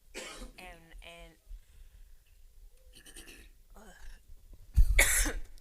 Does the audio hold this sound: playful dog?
no